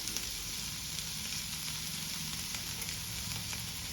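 Ivy gourd (kovakka) pepper fry sizzles steadily in a pan as it is stirred with pepper powder, a continuous close frying hiss with faint scraping, no talking.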